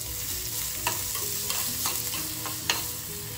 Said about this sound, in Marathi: कांदा आपण छान असतो थोडंसं नरम करून घेऊया, जास्त नाही ना शिजायला, थोडंसं। त्यानंतर गाजर टाकू